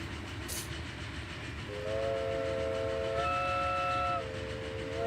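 Train in the Transport Fever 2 game, a steady rumbling run with a sustained multi-tone whistle sounding over it for a couple of seconds, fairly loud with no talking.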